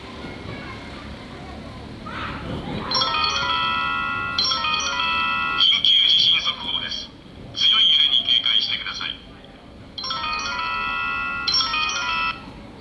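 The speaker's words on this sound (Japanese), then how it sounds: "こういった緊急地震速報というものがね、スマホだとかラジオの放送だとかから流れます。" A Japanese earthquake early warning alert plays through a mall public-address system during an evacuation drill, a loud repeating chime-like tone in several bursts with brief gaps, ringing over a low crowd murmur.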